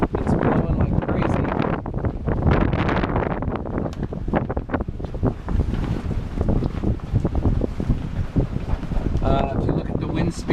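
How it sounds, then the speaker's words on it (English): Strong Hurricane Joaquin wind roaring steadily across the microphone near a boat, a loud buffeting rush with gusty surges throughout and a voice faintly audible beneath it. "If you look at the wind speed there, it's blowing 30 knots consistent, and then it blows up to 35 to 40."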